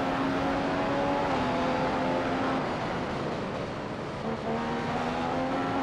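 A Formula One race car engine in the F1 2015 game at the Canadian GP drones loudly and continuously, its high whine shifting slightly as the car holds speed and changes gear.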